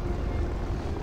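Low, steady engine drone of an enemy Fieseler-type fighter climbing in a flight-combat game duel against an A6M3 Zero, a broad rumble with wind-like hiss, continuous and fairly loud with no talk.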